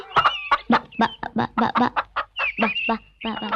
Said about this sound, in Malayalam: എന്റെ ഈശോയെ, എന്നാ വലിപ്പമായി കോഴിക്കൊക്കെ.